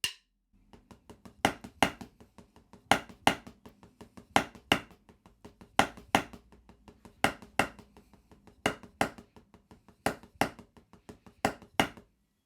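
Drumsticks striking a Prologix Blue Lightning practice pad in steady straight sixteenth notes, with four louder accented strokes per bar standing out from quieter taps, close and dry, no voices.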